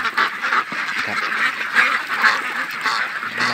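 Yi Liang breeder ducks quack and honk in a busy, continuous chorus at morning feeding, many birds calling close by at once.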